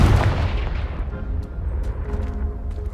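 A loud blasting spell explosion in Hogwarts Legacy, bursting on a pile of debris blocking a stairwell, with a heavy boom at the start that decays into rumbling and scattered falling rubble.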